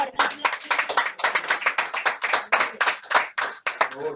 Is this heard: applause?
yes